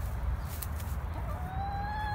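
A backyard hen on a small urban farm clucks and murmurs softly, with brief calls over a faint outdoor background and a thin whistling tone toward the end.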